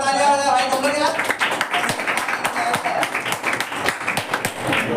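Students and teachers clap together at a Republic Day celebration in an academy classroom, a steady dense round of hand claps filling the clip with voices mixed in.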